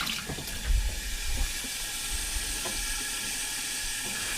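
Water poured into the bottom of a baking tray of stuffed mushrooms and pork chops, a steady close rushing splash with a few brief sizzling hisses and no talk.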